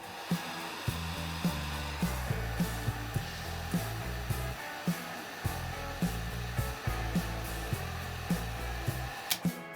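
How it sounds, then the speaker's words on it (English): A 1400 W hair dryer runs steadily during a circuit breaker overload test, a continuous airy roar broken by regular low thumping pulses, with a sharp click right at the end. "Overload test, connecting 1400 hair dryer."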